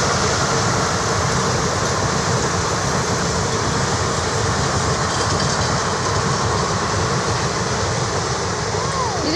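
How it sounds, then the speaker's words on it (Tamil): A passing train clatters loudly and steadily on the rails close by, its continuous roar and rhythmic clickety-clack filling the whole stretch with no talk heard. "சின்ன ட்ரெயின் தான் மொதல் போனதை விட"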